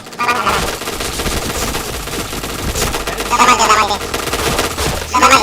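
Rapid bursts of automatic gunfire ring out in a video game, dense and loud, with a steady mix of game sound underneath.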